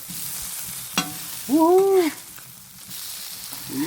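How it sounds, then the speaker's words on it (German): Fish fries in butter in a pan with a continuous soft sizzle, broken by a sharp click and a brief rising-and-falling squeaky tone near the middle. "Hier broeden we onze Fesh met een beetje butter."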